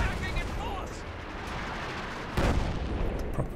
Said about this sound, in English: It's just been a constant howitzer assault on this side.